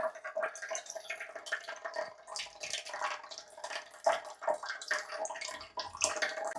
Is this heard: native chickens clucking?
no